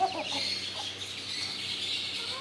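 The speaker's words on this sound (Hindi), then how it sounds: "ये हमारी डेंजरस मुर्गी भी आ गई है।" Old-bloodline hens cluck and call nearby in a flock, a fairly loud, continuous mix of clucks and chirps over steady ambient noise.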